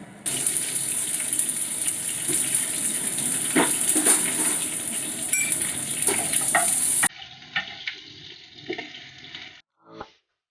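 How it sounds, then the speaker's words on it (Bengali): Mustard seeds and curry leaves crackling in hot white oil, a dense close sizzle with scattered pops that cuts off abruptly, giving way to quieter clinks and a few faint noises. "তাতে একটুখানি সর্ষে আর কারি পাতাটা ফোড়ন দিয়ে"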